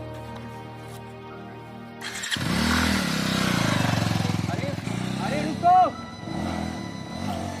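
A motorcycle engine starts, then revs and runs steadily with a throbbing idle and a throttle burst as the bike pulls away. A voice calls out over the engine.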